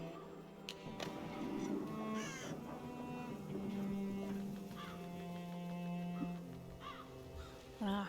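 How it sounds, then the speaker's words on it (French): Crows in the Child of Light video game crow village give repeated harsh caws over a steady droning music bed, moderately close and mixed with other game sounds. "Voilà, corbeau a l'air intelligent."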